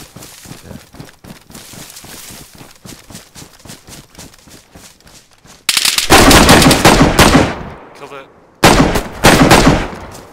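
Gunfire in the DayZ video game: a long run of rapid distant shots, then loud close automatic bursts that break off and resume.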